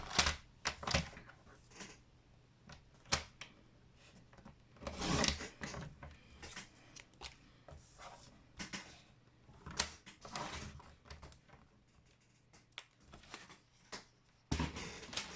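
Material for a folio pouch is cut out close by in irregular bursts of scraping and cutting strokes, with small knocks and quieter gaps between them.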